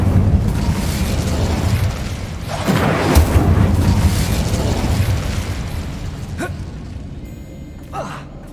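An Incendio fire spell cast in Hogwarts Legacy, a loud whooshing burst that flares up over a steady rumble of in-game ambience, followed by a couple of fainter, brief flares near the end.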